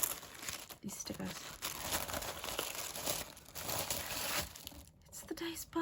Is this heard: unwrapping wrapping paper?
yes